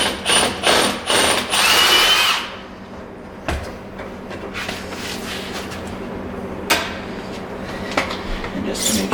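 A power drill widens a pilot hole for cabinet hardware with a larger bit, giving loud, close, whirring bursts for about two seconds before fading into quieter handling clicks and scrapes.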